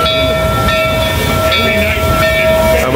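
A train rolls past on rails, a loud, steady rumble and clatter of wheels with a faint high whistle tone running through, close by and continuous without a break.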